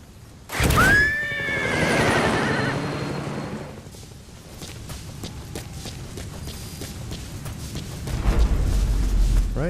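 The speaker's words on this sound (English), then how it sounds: "we'll go ahead and dismiss our horse" A horse in the Metal Gear Solid 5 video game lets out a loud, close whinny, followed by fading hoofbeats as it gallops away against a low background rumble.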